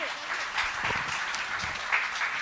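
Brief applause from the audience at a Jain religious ceremony, a soft, moderately distant wash of clapping lasting a couple of seconds, with a few low thumps.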